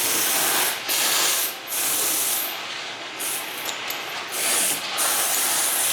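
A grinder works a beat-up 402 metal part flat for a 4L80E transmission swap in a bus, a steady loud broadband hiss that briefly dips several times as the wheel lifts off the metal.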